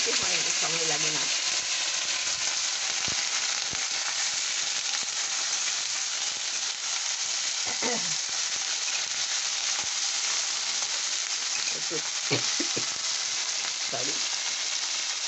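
Carrots and green peas sizzle in hot oil in a pot for khichuri, a loud dense hiss filling the whole stretch, with a few brief voice murmurs and utensil clinks over it.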